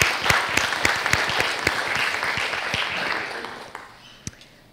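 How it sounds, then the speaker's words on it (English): Applause for a Women's History Month committee at a university event, a room of people clapping briskly and fairly close, fading gradually toward the end with a few last scattered claps. "let's give the Women's History Month Committee a round of applause"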